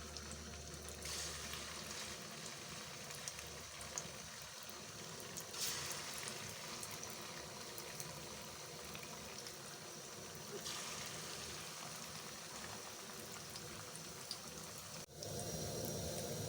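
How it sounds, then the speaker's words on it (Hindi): Potato sticks frying in hot oil, a steady close sizzle and bubbling that runs unbroken throughout, with faint clinks now and then. "तेल गरम हो गया है, अब हम इसको फ्राई करेंगे।"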